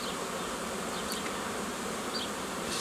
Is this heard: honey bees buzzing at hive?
yes